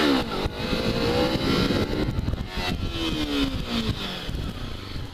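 Kawasaki Ninja 300 motorcycle, a 2013 model, revving hard during a sit-down wheelie, its loud engine note rising and falling through several sweeps, close and continuous with wind buffeting.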